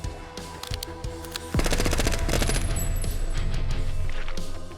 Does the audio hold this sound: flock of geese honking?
no